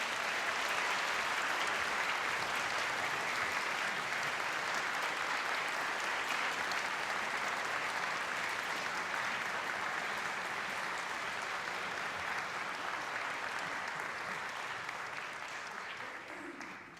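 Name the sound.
graduates applauding their supporters at a ceremony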